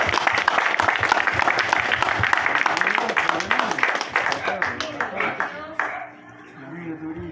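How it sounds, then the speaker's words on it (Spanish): A church congregation in Otuzco bursts into applause, a thick clatter of many hands for the first few seconds that thins and fades as a voice rises and carries on talking over it. "Le damos un aplauso,"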